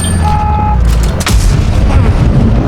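In the video game World of Tanks, a tank cannon fires a single heavy boom that rolls out over a loud, constant rumble of engine noise.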